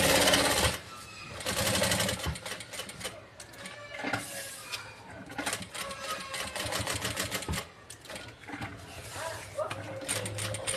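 A sewing machine stitches fabric around the edge of a small pencil case, running in steady mechanical bursts with brief pauses, close and fairly quiet.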